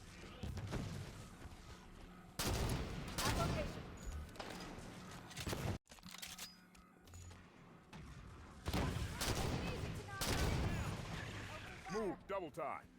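Norn Fang sniper rifle shots in Halo 5: Guardians, heavy booming reports spaced several seconds apart amid game ambience, with voices talking over the action.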